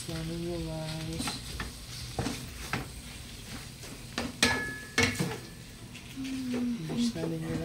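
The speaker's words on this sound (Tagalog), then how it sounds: "Tapos mix na ninyo guys." Chicken pastel mixture is stirred in a pan, with scraping and clinking strokes in an irregular rhythm over a soft sizzle as a person talks.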